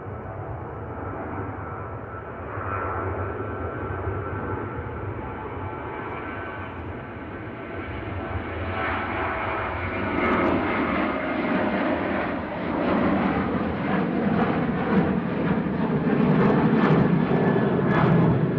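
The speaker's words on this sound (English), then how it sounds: "We've got a Ryanair going to Krakow, which is just about to take off. 737-800" A Ryanair Boeing 737-800 bound for Krakow rolls for takeoff, its jet engines a broad steady roar that builds and grows louder toward the end, close and continuous with no talk.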